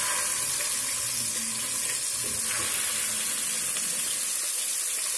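Fish sizzling steadily in a hot pan seasoned with salt and turmeric, a continuous soft frying hiss with faint stirring, close and fairly quiet, no talking.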